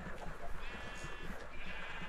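Sheep bleating in Minecraft with a modded farm setting, a thin wavering cry heard close over steady game background sound.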